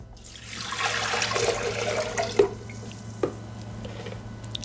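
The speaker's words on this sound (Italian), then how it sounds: "Iniziamo la ricetta mettendo all'interno del boccale l'acqua," Water poured into the mixing bowl of a Thermomix (Bimby) kitchen machine, a steady close splashing and gurgling stream with a few louder sloshes toward the end, no talking.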